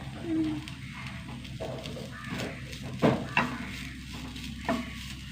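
Curry leaves, green chilli, shallots, ginger and garlic fry in oil with a low continuous sizzle and a few sharper pops and stirring clacks, fairly faint, with voices around it.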